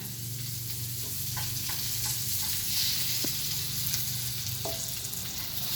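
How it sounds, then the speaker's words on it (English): An egg sizzles and fries steadily in a hot frying pan while fried rice is being made, with a few soft clicks and taps against the pan over the continuous hiss. "And then we put in the egg into the pan."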